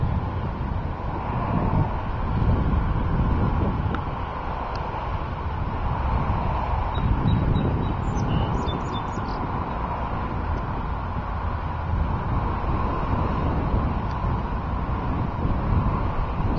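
Warm, steady wind blowing ahead of a severe thunderstorm, roaring and buffeting against the microphone in continuous loud gusts near trees and power lines, with no talk.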